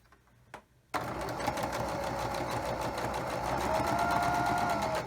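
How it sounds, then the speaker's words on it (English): A sewing machine stitches a log cabin quilt block, starting abruptly after a brief quiet moment and then running steadily and fairly loud, up close, with a continuous rapid mechanical chatter. "sew my block together"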